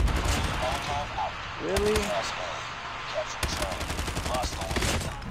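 Gunfire from Call of Duty Mobile in a match fired with an HG40 submachine gun, steady bursts of shots with a short pause, heard under brief in-game voices and radio chatter.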